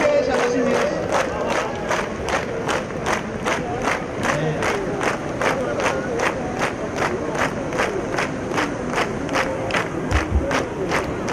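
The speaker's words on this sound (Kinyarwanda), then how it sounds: "amashyi menshi" A large outdoor crowd at a Burundian national gathering cheers and applauds steadily throughout, with dense clapping and rising shouts.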